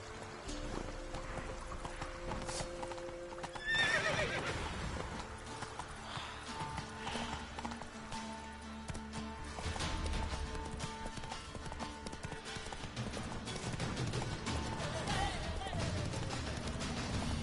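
Horse hooves clip-clop steadily at a gallop in The Witcher 3 video game, with a brief whinny, running under game music and occasional voices, fairly close and continuous.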